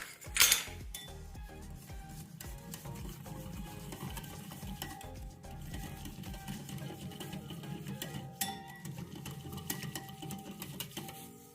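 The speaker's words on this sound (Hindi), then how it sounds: "और इसको करना है अच्छे से मिक्स।" Gram flour batter is stirred in a bowl with a quick, steady scraping and tapping rhythm, faint and close, with an occasional clink against the bowl.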